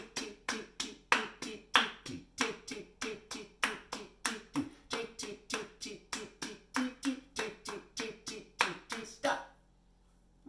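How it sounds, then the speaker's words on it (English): Sharp hand claps beat out a repeating rhythmic ostinato, crisp and close, in quick even groups with slight accents, stopping abruptly near the end. "Let's try doing that with claps."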